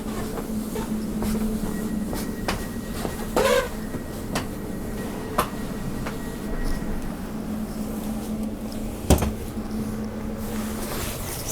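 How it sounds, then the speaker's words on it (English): Interior of a moving train heading toward Tottenham Hale, a steady low rumble and rolling hum with occasional knocks and rattles of the carriage. "That's the train."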